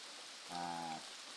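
Steady rain falls on a hut in the mountains during a pineapple field clearing, a continuous even wash of drops with a brief tonal hum in the middle.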